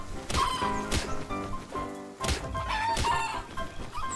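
Game chickens cluck and squawk in ARK Survival Evolved, with several loud, close bursts coming in quick succession, mixed with a few dull thunks.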